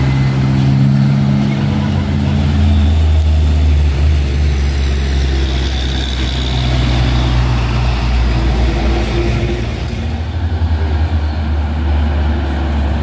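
A car drives past on a road, a steady low engine rumble and road noise that swells and fades gradually with other traffic droning in the background.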